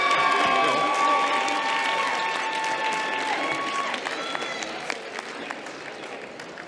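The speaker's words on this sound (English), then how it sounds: "round of applause for our players" An audience at a medical quiz championship claps and cheers for the players, loud at first and gradually thinning out, with a few tonal beeps or chimes ringing over the applause.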